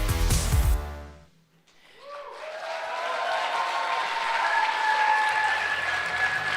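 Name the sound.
audience applause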